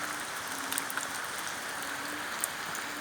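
Steady, soft hiss of morning rain falling on a surface, with scattered faint drip ticks throughout; no voices.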